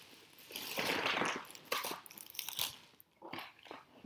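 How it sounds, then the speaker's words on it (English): A plastic shopping bag from a beauty-store haul crinkles and crunches in irregular bursts as items are pulled out, close up and fairly loud, with short pauses between rustles and no talking. "I know how annoying that is with the crinkling of the bag"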